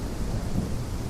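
Thunder and rain as weather effects in the video game Gothic Unreal Remaster, a low continuous rumble with a steady hiss of rainfall, no voices.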